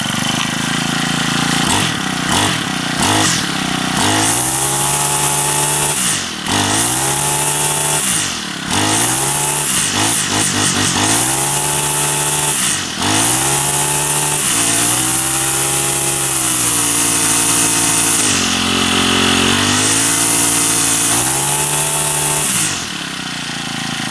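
A Husqvarna 224L/324L four-stroke string trimmer engine revs up repeatedly from idle, each burst rising to a loud high whine and dropping back, heard continuously from a moderate distance with no talk.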